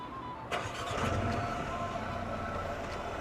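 A Mercedes-AMG GLA35 engine cranks and catches with a sharp rise, then settles into a steady close idle heard from inside the cabin.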